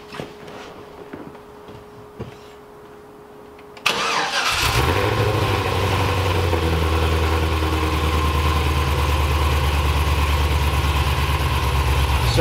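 A car engine fitted with a lopey cam cranks and catches after a quiet lead-in with faint clicks, then settles into a loud, close, steady idle with an uneven, loping rumble.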